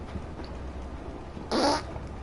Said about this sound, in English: That's a Spartan fart.